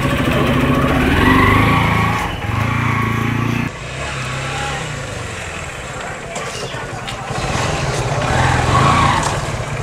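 A new Hero Xtreme motorcycle engine runs nearby, its loud revving drone rising and falling across the stretch with a dip partway through, while voices talk over it.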